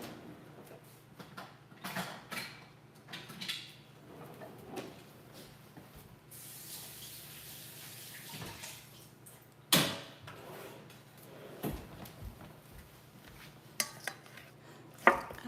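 A spoon pulled from a kitchen drawer while cooking vegetable sauce and baked potatoes, giving scattered metallic clinks and a few sharper clatters of cutlery, fairly close and moderate in level, with no talking.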